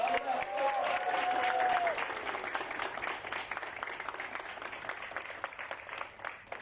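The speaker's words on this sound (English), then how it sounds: "Give her a round of applause." Crowd applause for a guest at a live comedy show in a Dubai club, dense clapping that starts strong under a brief voice and a whoop, then thins into looser, more separated claps as it tapers off.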